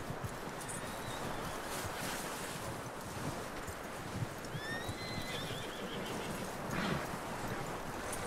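A horse in the video game Red Dead Redemption 2 whinnies and snorts amid steady wind-like outdoor noise, with faint hoof sounds in the background.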